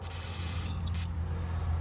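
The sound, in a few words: spraying WD-40 lubricant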